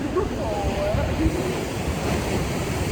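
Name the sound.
big ocean waves crashing on rocks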